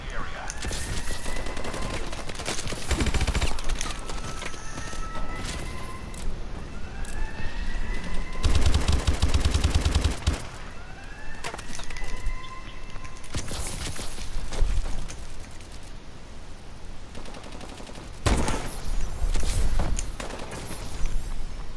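Sustained gunfire from Call of Duty: Advanced Warfare: dense bursts of automatic fire and heavy booms with sweeping whine-like effects, constant and loud throughout, with occasional voices beneath.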